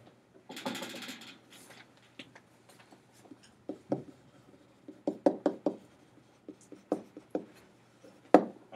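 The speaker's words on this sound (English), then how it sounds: "How does mom knock on the door?" A knock on a door demonstrating how a mother knocks, a quiet room with a burst of rustling early on, then scattered sharp wooden raps, some in quick pairs and groups, fairly close and without speech.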